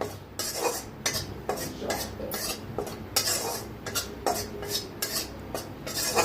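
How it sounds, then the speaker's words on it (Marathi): A spoonful of gram flour (besan) is dry-roasted in a kadhai on a gas stove, with repeated rhythmic scraping strokes of a utensil against the pan, close and fairly loud, with no talking. "आपल्याला थोडंसं का नाही 1 चमचाभर बेसन भाजून घ्यायचं आहे"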